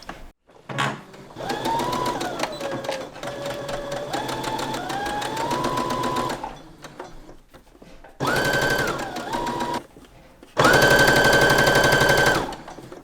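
A sewing machine running a straight stitch along a sleeve hem in Seriflex thread, with several bursts of steady rapid whirring. The stitching rhythm and pace shift slightly between runs, and there are short pauses in between.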